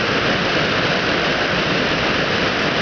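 A loud waterfall roars in a dense, unbroken rush of noise, close and continuous, with no voices.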